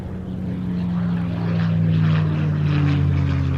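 A Spitfire fighter flying at an airshow, a loud, steady piston-engine propeller drone that swells slightly as it passes.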